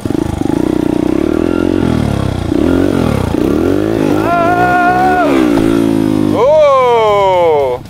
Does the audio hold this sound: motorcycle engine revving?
yes